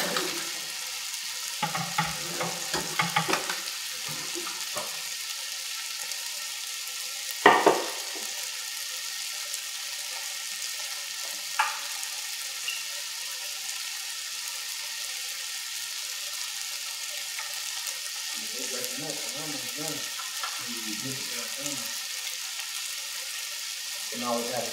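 Frozen broccoli fries in a pan with a steady, quiet sizzle, broken by a few bursts of stirring and scraping and a sharp clack near the middle, with brief muffled talk later.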